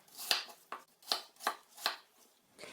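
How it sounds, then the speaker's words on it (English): Knife cuts through apple on a cutting board, dicing it into small cubes: about seven crisp, evenly spaced chops, close and fairly quiet, with no talking. "After cleaning our apple properly, we're going to cut them to smaller cubes."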